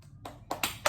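Several sharp hand claps from a classroom group doing the tepuk semangat cheer, landing as a few separate bursts with slightly uneven timing, fairly close and moderately loud, with no talk over them.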